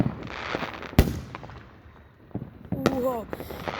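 Fireworks are being lit one after another at an outdoor airshow display, with a loud crack standing out early, then scattered pops and crackles, and a voice speaking near the end.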